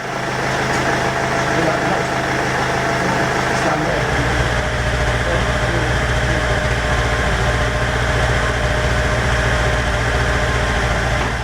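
A diesel engine idles steadily and loudly throughout during a TerraClean cleaning treatment, a low constant rumble whose tone shifts slightly partway through.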